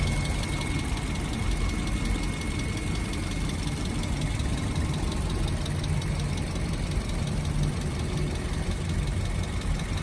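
A used 2014 Toyota Vios J sedan engine idling smoothly, a steady even hum running continuously and close by with no speech.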